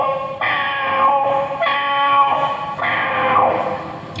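A human voice mimicking a cat crying near a house, three drawn-out wavering mewling cries in a row, close and clear with no talking.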